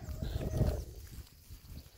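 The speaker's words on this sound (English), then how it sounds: "I've got some very excited sheep and steer calves right now." Excited sheep and steer calves crowd behind a farmer at lamb weaning time, heard as a faint, close shuffle of hooves and bodies moving through the paddock, with no distinct calls.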